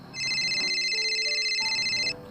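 A telephone rings in an animated horror family story, a steady electronic trilling ringtone lasting about two seconds, loud and close with a melodic tone underneath.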